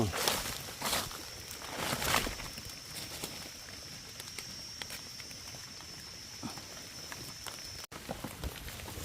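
Light rain patters steadily, with scattered drops and soft taps, a faint high hum running underneath.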